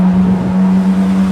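A Ferrari sports car engine drones past outdoors in cold, windy weather, a steady loud tonal hum over wind rumble.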